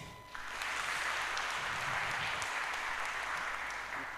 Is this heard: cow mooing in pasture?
no